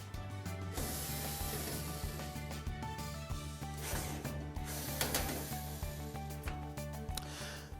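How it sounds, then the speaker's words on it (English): Screws are backed out of a metal dryer cabinet with a ratcheting driver, giving steady close-up clicking and mechanical rubbing that holds for several seconds against a loud, busy background. "we'll go ahead and remove the two screws on the opposite side"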